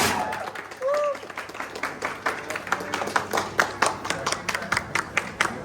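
Audience applause at a film event in Korba, Chhattisgarh for the movie 'Beauty Parlour Wali Bahu', a crowd of steady clapping that builds and holds across the clip, with music or voices faintly mixed in at the start.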